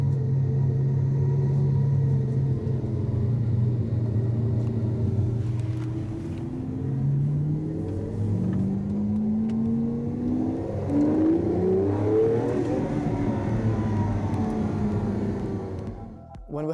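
A Lamborghini Aventador engine runs close by, a deep, loud rumble with rising and falling revs sweeping upward through the middle before cutting off abruptly at the end.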